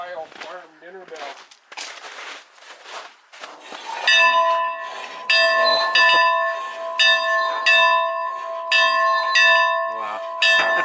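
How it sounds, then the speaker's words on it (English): An 1876 Ohio farm dinner bell rings with several sharp, sustained metallic strikes that ring on and overlap, following a stretch of clattering and handling noise. "1876 Ohio farm dinner bell"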